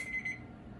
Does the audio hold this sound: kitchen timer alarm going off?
yes